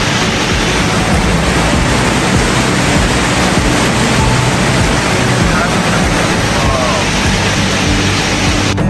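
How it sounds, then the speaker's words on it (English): Waterfall at Wharf Meadows Park in Otley, West Yorkshire, a loud steady broadband roar of falling water filling the scene without pause, close and constant throughout. "just hear now the sound of that waterfall"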